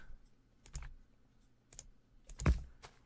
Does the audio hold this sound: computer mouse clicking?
yes